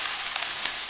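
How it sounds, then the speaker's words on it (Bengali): Potatoes and cauliflower frying together in a pan make a continuous, bright sizzle close by, with faint stirring crackles rising now and then over the hiss. "এবার আমি আলুগুলো দিয়ে দিচ্ছি, একসাথে ভেজে উঠিয়ে নেব ফুলকপিটা আর আলুটা।"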